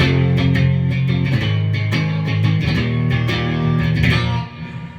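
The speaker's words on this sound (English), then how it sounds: "See, in distortion, you can't tell how hard you're picking it" A heavily distorted electric guitar plays loud sustained chords with rhythmic picked attacks, fading slightly at the very end.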